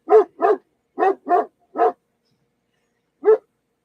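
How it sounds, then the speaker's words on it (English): A dog barks at the door in a quiet room: five sharp, close barks in quick pairs, then a pause and one more bark, each loud and distinct against silence. "He's right at the door barking."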